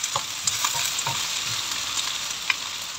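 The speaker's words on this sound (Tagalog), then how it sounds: "Isunod na ilagay na po natin ang bawang." Garlic fries in hot oil in a pan with a steady, close hiss and crackle, with a few light stirring taps over the continuous sizzle.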